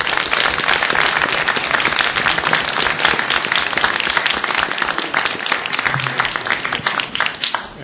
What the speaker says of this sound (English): I'd like to see a round of applause for Dr. Paswell